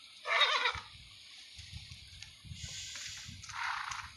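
A horse neighs in a short, high whinny near the start, then another softer whinny follows toward the end, with light shuffling and splashing-like noises between, fairly faint overall.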